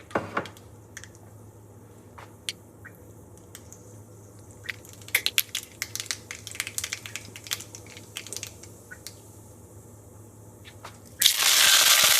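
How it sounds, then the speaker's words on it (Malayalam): Mustard seeds splutter in hot coconut oil in a Kerala kitchen, making sharp, scattered pops that thicken into a busy crackling burst before a loud hiss of sizzling takes over near the end. "അതിലേക്ക് നമുക്ക് ആവശ്യത്തിനുള്ള കടുക് ഇട്ട് കൊടുക്കാം."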